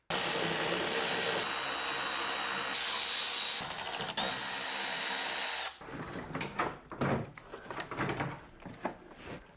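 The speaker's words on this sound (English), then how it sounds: "Remove the bolts, headlight should come right out." Power tool working the bolts that hold the headlight on a BMW F10, a loud steady whir and buzz for several seconds, then stopping, followed by clattering handling and rustling nearby.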